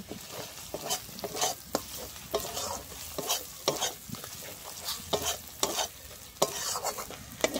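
Ginger and garlic paste frying in a pan for a prawn and taro-stolon curry, a steady close sizzle broken by repeated sharp scrapes and clicks of a spatula stirring, with no voices.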